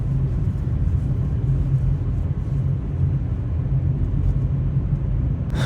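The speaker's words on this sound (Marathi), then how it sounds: "मस्त वाटतं एकदम गाडी चालू आहे." A car engine drones steadily as the vehicle drives down a ghat road near Satara, a close, loud and continuous low rumble with no talk over it.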